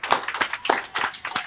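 An audience claps in a few quick, irregular bursts, heard as short separate hand claps that are fairly faint. The clapping is brief and stands alone without talk.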